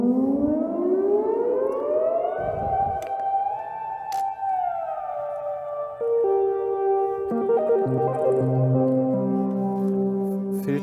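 Synthesizer tone sliding smoothly upward in pitch, holding, then gliding to the next note in a 1970s-style portamento, followed by layered sustained chords; loud and steady with no voices.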